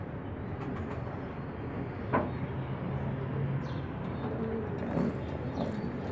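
A male meat-breed pigeon coos in a loft whose door was left open, giving low, murmuring calls that are fairly faint against steady background noise.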